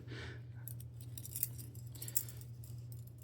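Small folding scissors snip electrical tape while a new ultralight fishing reel is spooled, with two quick, close clicks over a steady low hum and no talking.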